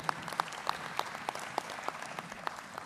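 Audience applause at a St. Thomas University commencement ceremony, a steady wash of many hands with a few distinct louder claps standing out at regular intervals, moderately distant and even in level.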